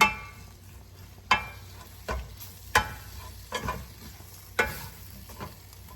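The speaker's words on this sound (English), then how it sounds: "And I'm going to scramble these eggs. Just stir this up." Eggs being scrambled in melted butter in a skillet, with a soft sizzle under sharp, scattered scrapes of a utensil stirring the pan, close and fairly quiet, with no talking.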